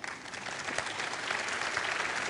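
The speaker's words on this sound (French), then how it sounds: "oui on peut les applaudir" Audience applause at the opening of a colloquium, a fairly faint but steady spread of clapping from a seated crowd, continuous and uninterrupted by speech.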